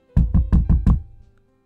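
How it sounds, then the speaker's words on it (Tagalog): Five quick, loud knocks on the door of a house, evenly spaced and close, followed by a brief faint tail of room sound. "Habang kumakatok ako sa pintuan nila"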